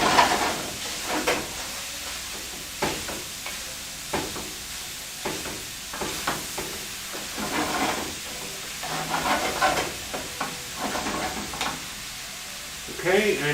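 Shepherd's pie filling with rosemary stirred in a pan, with repeated scraping stir strokes over a steady sizzling hiss from the cooking, close by and moderately loud.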